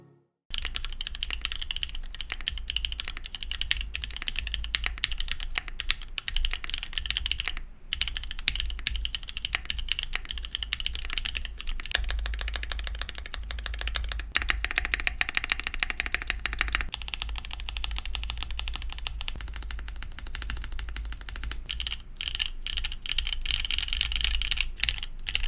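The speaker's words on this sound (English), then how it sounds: "So let's hear the stock typing test." Typing on a stock AJAZZ AC067 mechanical keyboard in iron grey with Mac and Windows keycaps, a steady stream of close, rapid key clacks continuing for about twenty-five seconds with brief pauses, no talking.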